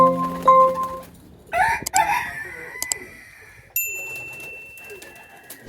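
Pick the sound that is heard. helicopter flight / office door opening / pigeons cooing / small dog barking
pigeons cooing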